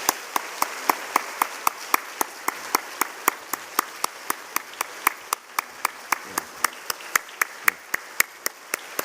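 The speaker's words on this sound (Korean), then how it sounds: "뜨거운 박수로 감사합니다." Warm applause fills a church during an autumn revival service, a sparse, even run of claps ringing out close and steady for several seconds with no voices over it.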